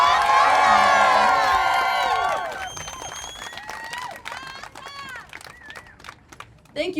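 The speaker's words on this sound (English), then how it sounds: "Another applause for Alta." A rally crowd at an outdoor environmental event cheers and applauds, loud shouts and whoops at first, then fading into scattered clapping and talking voices.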